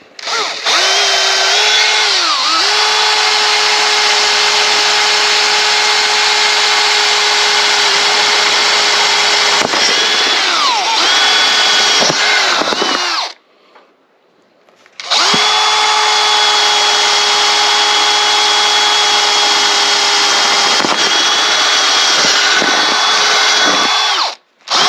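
A close, loud power drill runs continuously through a camper roof, stops briefly, then drills again at a steady high whine, with a few shifts in pitch as the bit cuts through.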